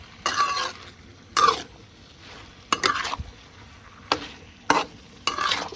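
Shrimp and onions stir-fried in a pan, heard as a handful of short, loud bursts of scraping sizzle spaced a second or so apart, with quiet low hiss between them and no talking.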